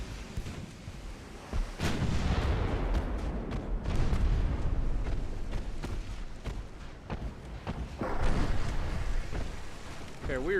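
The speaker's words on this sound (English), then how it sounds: "secondaries are already scoring hits on the battleship" Heavy naval gunfire in a warship battle game, with the guns hitting a battleship: repeated deep booms and thuds at irregular intervals over a low rumbling background.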